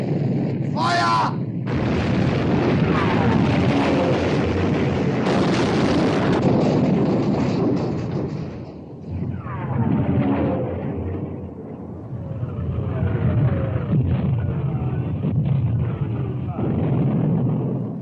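Naval guns fire with heavy booms and explosions in a sustained loud barrage, shouted commands and voices heard among the blasts.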